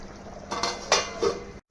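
A metal lid set onto a cooking pan of besan paneer masala, three quick clanking rattles close by, then sudden quiet.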